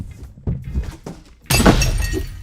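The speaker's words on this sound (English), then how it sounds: "so let's get rid of this box." A cardboard box is pulled away from a Razor MX350 Dirt Rocket electric dirt bike. Close thuds and scrapes come first, then a loud, rough burst of crumpling and tearing cardboard.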